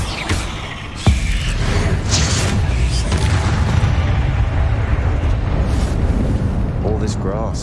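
A Confringo blasting curse explodes in Hogwarts Legacy with a sharp blast followed by a rumbling, crackling roar. A voice speaks over the din.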